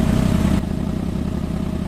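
A 2020 Toyota Wigo running steadily at the exhaust, giving off a low, even engine drone with a slight drop in level partway through.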